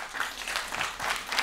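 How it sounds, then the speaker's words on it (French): An audience at Charles Nouveau's French stand-up comedy show claps in answer to a question, a steady, dense wash of applause with slight swells that keeps going for the whole moment. "Par applaudissement, qui c'est qui est né en avril?"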